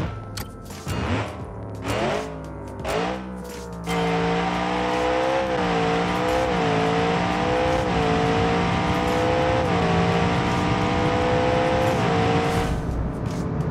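A car engine in a BeamNG.Drive drag race, with a few sharp revs and gear changes before a long, loud, steady acceleration roar that climbs through the gears, ending in a brief release.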